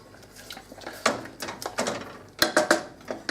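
Pot lifted off the stove and a thickened corned beef dish served up, with a series of clinking and clattering knocks of cookware and utensils, sharp clusters near 1 and 2.5 seconds, fairly close in a quiet kitchen.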